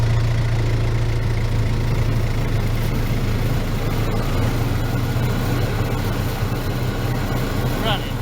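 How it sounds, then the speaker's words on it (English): A small lawn mower engine runs steadily at idle with its blades spinning and the guard removed, a loud continuous drone close by. "I wouldn't get too close with that thing spinning in case one of them blades flies off of there or something"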